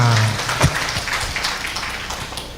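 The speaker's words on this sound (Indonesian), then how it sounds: "Tepuk tangan untuk kita semua." A crowd of hospital staff at a gathering at Rumah Sakit Suwondo claps in steady, dense applause that fills the space, with a brief voice at the very start.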